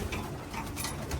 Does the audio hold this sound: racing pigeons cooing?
yes